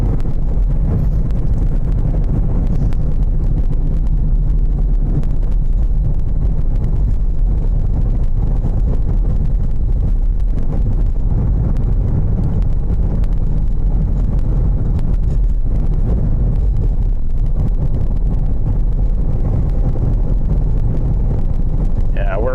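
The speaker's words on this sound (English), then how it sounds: "Ooh, it's windy." Heavy wind buffets the microphone in a constant low roar during tornado warnings in Illinois, loud and continuous, with a voice faintly underneath.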